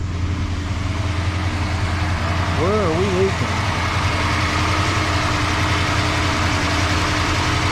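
A 1968 Chrysler Newport with a new aluminum radiator idles with a steady low rumble that runs the whole time, close by, while a person speaks briefly over it.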